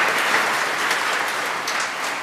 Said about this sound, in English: Give Chris a big round of applause.